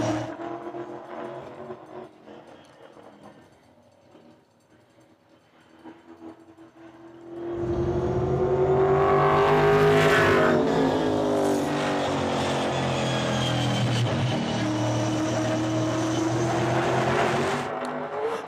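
WESCAR race cars at Hythe Motor Speedway time trials: a faint, distant engine drone swells abruptly into a loud, sustained roar as a car runs close by, holding strong to the end.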